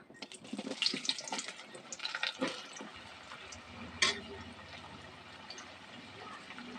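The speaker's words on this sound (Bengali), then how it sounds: "এই লম্বা লম্বাগুলো আলু কেটে নিয়েছি সেগুলো তেলের মধ্যে ছেড়ে দেবো" Long-cut potato strips dropped into hot oil for a spicy vegetarian okra dish, giving a broadband sizzling hiss with an early burst of crackle and splashes that settles into a steady, quieter frying hiss close by.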